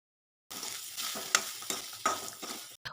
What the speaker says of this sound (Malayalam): ഒരു ചീനിച്ചട്ടി അടുപ്പിൽ വെച്ച് നല്ലെണ്ണ ഒഴിച്ച് വറ്റൽമുളക്,